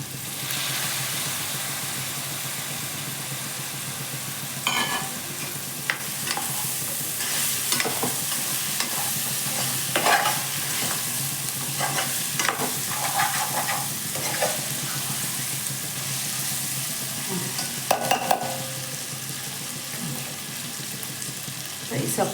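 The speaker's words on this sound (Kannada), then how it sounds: "ಕಾಳು ಹಾಕ್ಕೊತಾ ಇದ್ದೀನಿ." Ingredients for fried rice, masala and pulses, being stirred and fried in a pan: a steady hiss of sizzling runs throughout, broken by scraping spoon strokes that come in irregular bursts, with no talking.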